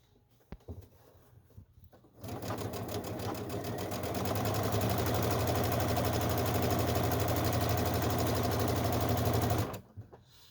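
Sewing machine stitching fabric in one continuous run of about seven seconds, a steady rapid whirring buzz that starts abruptly and stops cleanly, with a few faint handling clicks before it.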